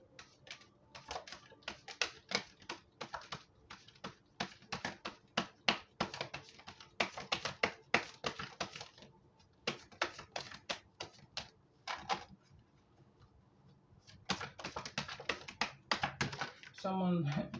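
Tarot cards are shuffled over and over up close, a rapid run of crisp flicks and taps with short pauses between bursts.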